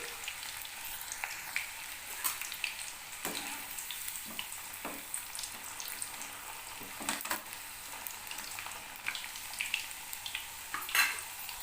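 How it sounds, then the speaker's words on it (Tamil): Snake gourd fries in oil with a gentle steady crackle and hiss, occasional light metallic taps of a utensil against the pan, quiet and close. "கொஞ்ச நேரம் அப்படியே வேகட்டும் புடலங்காய் நல்லா பொறிஞ்சிருச்சு"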